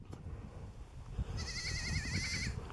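A goat bleats once in a long wavering cry after a moment of quiet background rumble.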